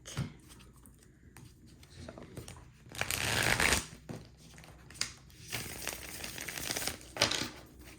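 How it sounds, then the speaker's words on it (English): A deck of tarot cards is shuffled up close, with riffling and crinkly paper rustling in uneven bursts, the loudest swell in the middle, in a quiet room with no voices. "I'm going to pull more cards from another deck."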